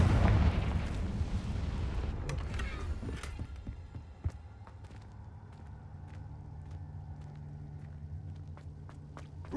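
A Confringo fire spell explodes in Hogwarts Legacy with a loud, broad burst that fades into a low rumble, followed by scattered clicks and footsteps over a steady low hum.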